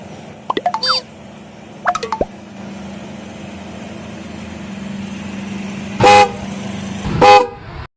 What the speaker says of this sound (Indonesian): Siapa sih nih yang klaksonin mobil aja?